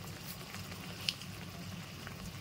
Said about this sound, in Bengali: দিয়ে ভালো করে কষিয়ে নেব।